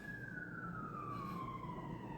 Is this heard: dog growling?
no